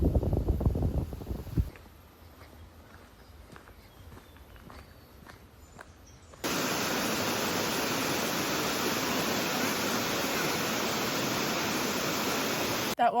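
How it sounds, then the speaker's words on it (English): A loud, steady roar of a New Zealand waterfall fills the second half, following quieter footsteps and faint rustling at the start. "That waterfall was super cool"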